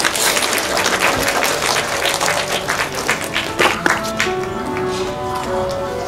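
Wedding guests applaud at a semi-outdoor ceremony, sustained clapping that holds steady for several seconds before faint music and a voice begin to come through near the end.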